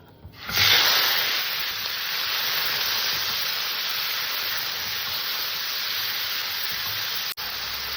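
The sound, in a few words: tomatoes poured into hot oil, sizzling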